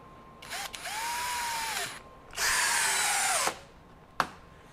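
A Masterforce 20V brushless compact hammer drill driver in screw mode on speed 1 whirs in two short bursts driving a screw flush into wood, the second burst louder and higher, followed by a quick sharp click.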